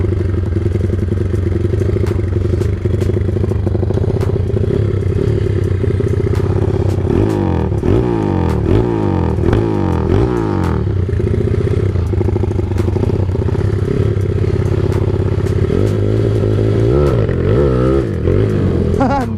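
A motorcycle with a failing spark plug sputters and labours while being started in first gear, loud and close, with rhythmic chugging bursts and uneven engine clatter that never settles into a steady idle.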